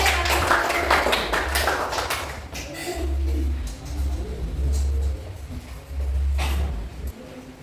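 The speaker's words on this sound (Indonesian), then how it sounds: "Tepuk tangan untuk kelompok C" Scattered clapping from a small group of schoolchildren in a classroom after a group presentation, loudest at the start and thinning out, with voices and low thumps underneath.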